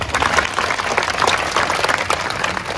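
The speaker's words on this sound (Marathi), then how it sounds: "सगळेजण बजागे परिवारासाठी एकदा मोकळ्या मनाने टाळ्या वाजवतील" Audience clapping at a Ram Katha coronation ceremony for the Bajage family, a steady, dense wash of many hands with no gaps, fairly loud and close, lasting a few seconds without speech.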